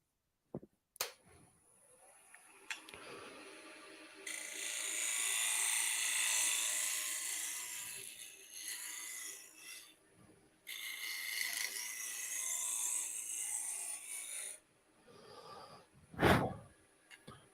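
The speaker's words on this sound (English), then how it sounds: "We are going to do a little bit of negative rake scraping and then create that dovetail with this tool." A negative rake scraper cuts a dovetail into a wooden basket handle spinning on a lathe, giving two sustained, bright scraping passes over a whirring drone, with quieter gaps between them and a sharp knock near the end.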